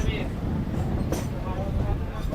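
A Barddhaman–Katwa EMU local train rolls along the track, a constant loud rumble of wheels and carriage noise with brief higher rattles.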